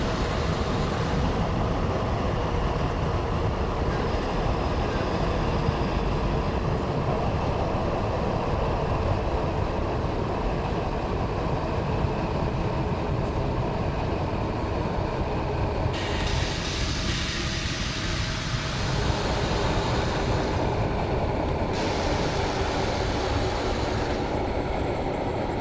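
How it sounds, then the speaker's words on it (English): A freight train rolls past the cab in Train Simulator 2020 on the Koblitz–Wildau route, a steady loud rumble of wheels and rail noise with brighter hiss bursts midway, no talking. "We'll start passing a freight train here."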